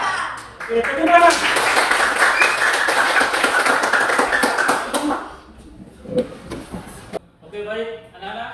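A class of schoolchildren claps together in a classroom for about five seconds, a dense loud burst mixed with their voices, then it fades into scattered talk.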